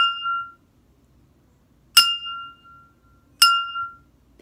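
Three bright struck notes ring out from a water-filled drinking glass used as a glass xylophone, each a clear clink with a sustained tone that fades over about half a second, spaced well apart with quiet gaps between.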